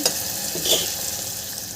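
Tomatoes sizzle in a pan as they cook down for a potato and eggplant curry, a steady close crackle of frying with light stirring scrapes.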